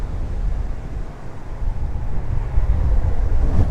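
Strong coastal wind buffets the microphone during a trike ride, a loud, gusty low-frequency rumble that swells and dips throughout, with no talking.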